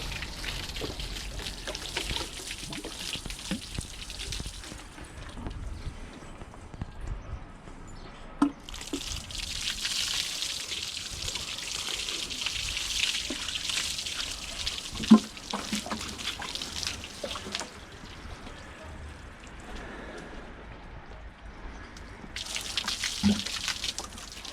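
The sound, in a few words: water running while rinsing off blue shampoo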